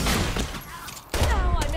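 Gunfire from a shotgun in the video game Borderlands 2 comes as dense, loud blasts at the start and again in the second half, with a brief quieter gap between.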